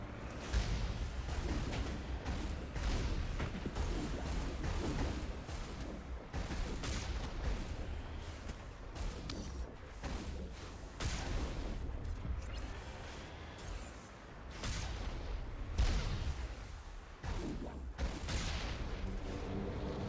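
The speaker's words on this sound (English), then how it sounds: "Who's shooting at me?" Sustained gunfire in the Mass Effect video game, a dense barrage of repeated shots and impacts spread throughout, fairly faint and distant in the mix with battle noise between bursts.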